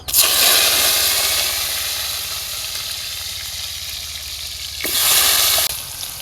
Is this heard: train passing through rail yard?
no